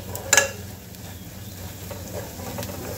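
Masala sizzles in a pan over low to medium gas flame, a soft steady frying hiss with a few sharp scrapes of a spoon stirring against the metal.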